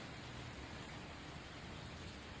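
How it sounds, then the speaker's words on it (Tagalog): Steady rain hisses continuously in Salinas, faint and even, with no voices. "Umuulan dito sa Salinas."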